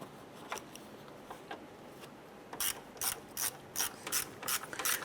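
A ratchet snugs down the screws holding the cooling fan on a 2007-2012 Nissan Versa, giving short bursts of close, crisp clicking that grow louder and more frequent toward the end.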